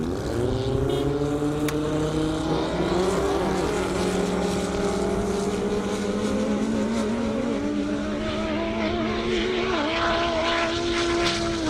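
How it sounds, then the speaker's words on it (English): Dodge Viper drag car from Vengeance Racing making a high-speed run on a half-mile airstrip at a 200+ mph event, a loud sustained engine roar with rising harmonic tones throughout, steady and close, with no talk. "Nice run, Ned. Vengeance Racing Viper."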